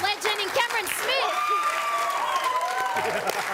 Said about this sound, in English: Is that the best applause you've ever had in New South Wales?